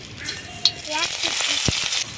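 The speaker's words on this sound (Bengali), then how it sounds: "তেলের মধ্যে দিয়ে দিচ্ছি পেঁয়াজ কুচি" Chopped onion dropped into hot oil in a wok, sizzling and spitting steadily with a brief clink of a utensil.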